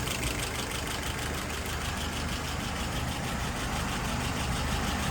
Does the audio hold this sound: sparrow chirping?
no